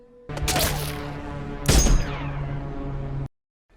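Gunfire from a zombie film scene, a loud burst of shots followed by a second heavy blast and a ringing tail that cuts off abruptly, with no talking.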